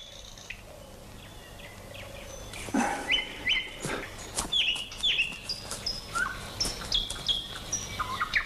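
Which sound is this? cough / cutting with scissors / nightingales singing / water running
nightingales singing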